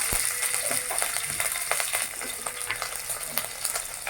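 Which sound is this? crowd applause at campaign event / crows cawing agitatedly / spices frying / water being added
spices frying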